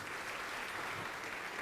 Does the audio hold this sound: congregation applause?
yes